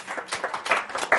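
A brief, faint burst of audience clapping from a small group of people in a talk setting, with a handful of uneven claps over about a second.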